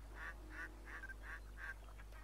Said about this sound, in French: Les petits canards.